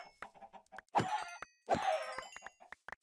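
Chickens cluck in Minecraft, a string of short quiet clucks and two longer, louder squawking calls, heard alone without talk.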